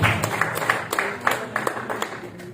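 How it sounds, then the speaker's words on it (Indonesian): Church congregation clapping, a loose irregular run of hand claps, moderately loud and fairly close, mixed with some voices in the room. "Tepuk tangan bagi Tuhan kita."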